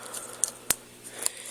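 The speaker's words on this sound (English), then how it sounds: "Using my kitty scissors" Small kitty scissors cut open a squishy toy package with a few quiet, sharp snips and one louder crisp cut, against soft background rustle.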